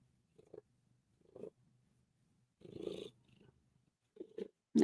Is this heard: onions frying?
no